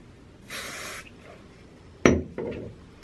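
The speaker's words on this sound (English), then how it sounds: "And a little bit of hairspray." Hairspray sprays onto hair in a short soft hiss of about half a second. A sharper knock and a brief rustle follow a moment later, with no talking.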